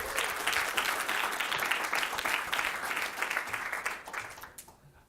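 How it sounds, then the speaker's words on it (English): A conference keynote crowd claps and applauds steadily for several seconds, dense and loud, then the applause fades out near the end. "let's give ourselves a round of applause."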